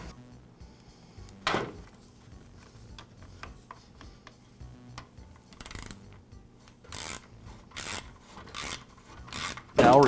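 A screw is driven in to secure the pivot retainer on a DeWALT miter saw during a pivot sleeve repair, giving quiet intermittent rasping and scraping bursts with small clicks, close by, growing more frequent toward the end.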